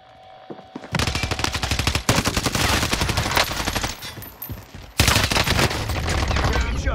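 Rapid bursts of automatic gunfire in a video game, loud and close, running almost continuously with a brief lull before a second barrage, with voices faintly under the shooting.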